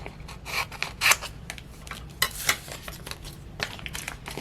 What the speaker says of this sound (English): I'm going to trim it down